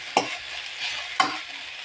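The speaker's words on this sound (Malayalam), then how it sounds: "തഴുതാമയിലും കുമ്പളത്തിൻ്റെ ഇലയും കൂടെ നല്ലപോലെ ഇളക്കി" Malabar spinach and ash gourd leaves stirred together in a pan: two distinct scraping stirs about a second apart, over a faint, steady background sizzle.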